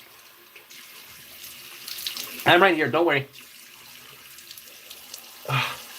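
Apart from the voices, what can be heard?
tap water running while rinsing hands and splashing face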